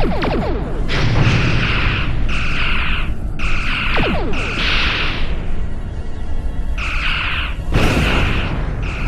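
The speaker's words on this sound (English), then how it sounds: "Target their main weapons array, arm torpedoes, and prepare to fire as soon as their shields go down. Fire!" Starship torpedoes launch at an enemy vessel in a space battle, a series of loud booming discharges with whooshing, ringing tones, several shots spaced over the scene amid rumbling background.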